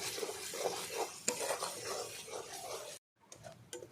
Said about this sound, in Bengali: এভাবে কষিয়ে নেব দু থেকে তিন মিনিট এই দেখো সব তেল তেলটা বেরিয়ে গেছে মশলা কষতে কষতে